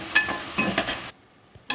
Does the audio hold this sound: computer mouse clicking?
no